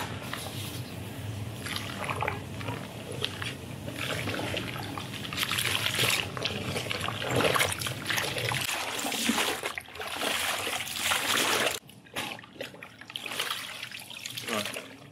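Water splashes and trickles steadily as a fallow deer hide is rinsed after washing, loud and close, with a pause and a few softer splashes near the end.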